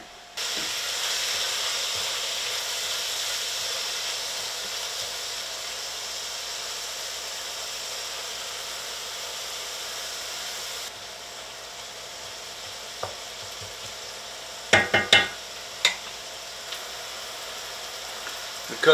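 Onions frying in coconut oil in a pan for a Thai Cajun seafood curry, a steady soft sizzle and hiss that eases partway through, followed by a few light clinks of a utensil near the end.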